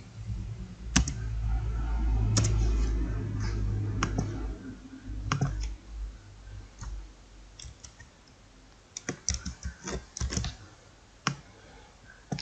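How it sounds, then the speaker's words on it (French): A computer mouse gives scattered, sharp clicks close by, some single and some in quick clusters, against a quiet background with a low hum early on. "Après, je clique sur CMD."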